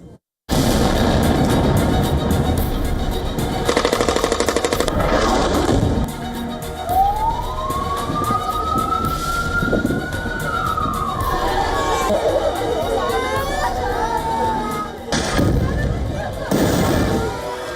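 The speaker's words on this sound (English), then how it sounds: "The night is shattered by explosions." Night explosions in a war zone, dense loud booms and bursts under a steady din of crowd noise, with a rising-and-falling siren wail sweeping through the middle and sharp blasts recurring toward the end.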